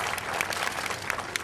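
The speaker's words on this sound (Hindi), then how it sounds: "तालियां बजनी चाहिए, जोरदार ताली" Applause at a women's empowerment festival ceremony as the Bihar chief minister lights the ceremonial lamp: a lively crowd claps loudly and continuously, with sharper individual claps popping out of the dense wash.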